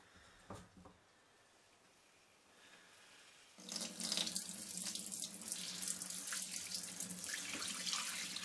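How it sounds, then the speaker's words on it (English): Dirty water being poured off stainless tumbling media into a sink, with a couple of faint knocks first, then a sudden loud, steady splashing stream that keeps running to the end. "if you're careful, you should be able to just decant the water off"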